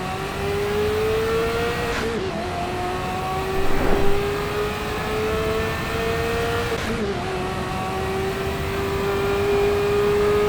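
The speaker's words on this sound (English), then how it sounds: "It's a nice sounding car, man." A car engine in the driving game Assetto Corsa EVO holds a loud, steady tone that dips and recovers at two gear shifts, with a brief louder rev burst between them. It keeps droning near and prominent throughout.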